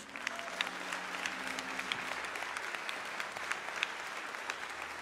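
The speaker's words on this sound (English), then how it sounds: "please give a round of applause for my co-counsel, a great lawyer attorney, Mark Crutis." Steady applause from a crowd of mourners at a funeral service, dense and sustained clapping with no speech over it.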